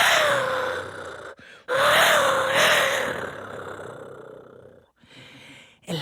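Ancient Mexican wind instrument voiced to mimic a jaguar, giving a rough, breathy, wavering growl in two long loud blasts separated by a brief pause, then a fainter trailing breath.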